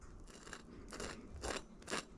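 A fork cracks through the thin caramelized sugar shell on crème brûlée-style French toast, giving three or four crisp, close crunches spaced about half a second apart over quiet background.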